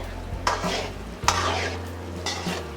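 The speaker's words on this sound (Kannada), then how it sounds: "ಈ ರೀತಿ ಕೈ ಆಡಿಸಿ ಕೈ ಆಡಿಸಿ ಬ್ರೌನ್ ಕಲರ್ ಬರೋ ಗಂಟ ಮಾಡ್ಕೋಬೇಕು ಬೇಯಿಸ್ಕೋಬೇಕು" Wheat-flour shankarapali fry in hot oil with a steady soft sizzle, while a utensil stirs them in three distinct scraping sweeps against the pan, close and clear.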